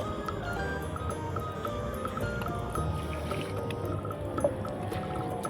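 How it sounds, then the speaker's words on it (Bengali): Rice is swished and rinsed in water in a toy miniature kitchen, a continuous soft sloshing and gurgle close by with no voices. "এবার আমার জলটাকে ঝরানো হয়ে গেছে, এবার আমি আরেকবার ধুয়ে নেব"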